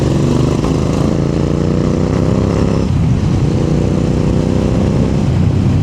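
A Royal Enfield Interceptor 650 fitted with a Red Rooster aftermarket exhaust rumbles loudly nearby, a deep, thumping parallel-twin note that swells, then dips briefly and picks back up in a steady throaty burble.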